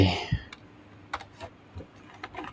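Keyboard shortcut keys pressed in Excel on a computer keyboard: a few scattered, light clicks and taps spaced irregularly, close and fairly quiet, with no talking.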